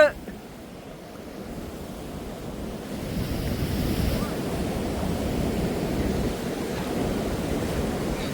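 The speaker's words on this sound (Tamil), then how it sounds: "இஞ்சால் அப்படியே தண்ணி பாஞ்சு கொண்டு இருக்கு பாருங்க" Steady rushing water released from a reservoir's opened spill gates after heavy rain in Kilinochchi, a broad continuous wash that swells slightly after a few seconds, with gusty wind noise over the microphone.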